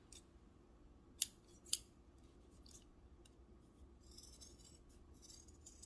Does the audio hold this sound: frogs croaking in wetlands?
no